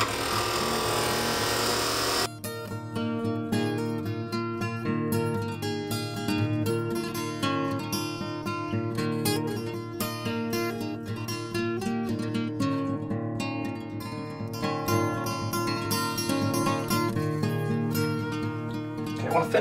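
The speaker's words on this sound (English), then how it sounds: "I'm just gonna try to take out a little bit with the bowl gouge." A bowl gouge cuts into a spinning piece of firewood on a wood lathe, shaping the inside of a cup. It makes a steady, loud, continuous scraping whir over the lathe's hum, starting abruptly after a brief motor sound.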